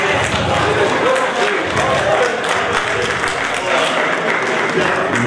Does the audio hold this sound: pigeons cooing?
no